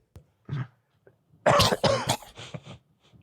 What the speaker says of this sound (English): He's always coughing and gagging.